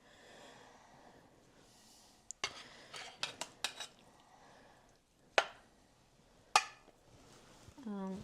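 A spoon scraping and clinking against a dish while moving beef bourguignon around, with clusters of sharp metallic taps and knocks, a quiet breathy sound, and a voice nearby.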